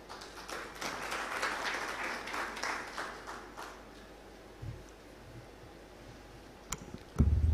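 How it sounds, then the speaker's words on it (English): Audience applause at an employers' conference fills the opening seconds, a dense steady clapping that fades gradually and gives way to a quiet room with a few scattered claps and a bump of handling noise at the end. "When you clap before I start to even talk, makes me a little more excited."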